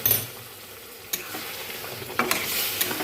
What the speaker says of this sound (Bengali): ডালটাকে ঢেলে দেব।